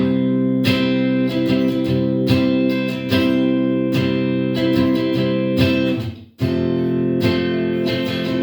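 Acoustic guitar strummed in a steady four-beat pattern with alternating thumb-picked bass notes under the chords, played close and alone with no talking.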